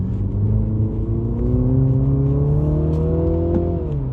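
A Mini JCW GP3 engine in sport mode blips and revs through downshifts, with rising and falling tonal engine notes over a steady loud drone and no talk.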